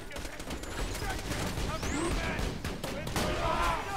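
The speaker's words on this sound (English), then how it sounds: "Got a turret shooting him now." Dense, continuous automatic turret gunfire in the video game Borderlands 2, a rapid stream of loud shots and impacts filling the whole moment, with a faint voice under the barrage.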